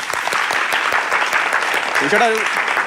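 Audience clapping after a Malayalam poem recital at a Christmas gathering, a steady dense patter of hands lasting throughout, with a short vocal sound near the end.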